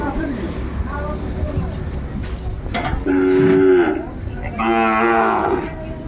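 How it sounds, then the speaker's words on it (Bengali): Sahiwal cattle moo twice, long low calls a moment apart, over a busy background of murmuring voices and outdoor noise at a truck loading of bulls. "বেশ সুন্দর মানের গরুগুলো কালেকশন করছে মমিন ভাই"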